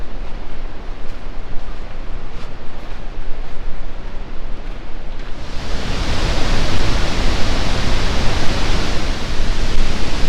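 The Pailón del Diablo waterfall near Baños, Ecuador roars as a steady, dense wash of noise that swells much louder partway through as it is approached, continuous with no voices.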